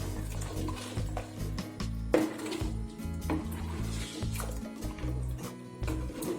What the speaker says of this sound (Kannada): ಮಿಕ್ಸ್ ಮಾಡ್ತಿದ್ದೀನಿ.